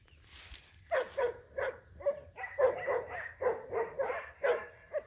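Dogs barking outdoors beside a high tunnel grow house at a turtle hiding in its shell: a steady run of repeated sharp barks and yips, moderately close, with no one talking.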